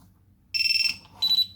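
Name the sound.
HellGate FPV buzzer sounding on battery connect/disconnect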